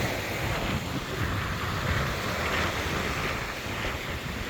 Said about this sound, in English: this wind feels really nice, and it's probably very loud